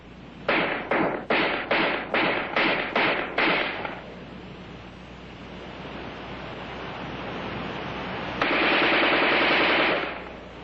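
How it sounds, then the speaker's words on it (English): An Armalite AR-10 rifle fires seven loud, evenly spaced shots in quick succession; a longer burst of sustained noise follows near the end. "In offhand firing against a man-sized target at combat range, the AR-10 is in a class by itself."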